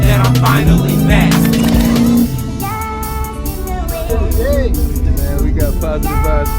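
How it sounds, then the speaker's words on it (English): A big, heavy engine on a 1973 car rumbles loudly at close range for about two seconds, then falls back under music and voices talking at a barbecue gathering. "You hear it? Big heavy motor."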